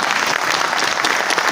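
An audience at a company's fifth anniversary event applauds a speech, a dense, steady burst of many hands clapping together, loud and close, with no voices rising above it.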